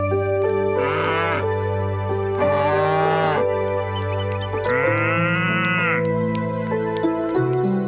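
Cattle mooing in a village setting, three long, drawn-out moos about a second each, loud and close with pauses between them, over a steady tonal background hum, no talk.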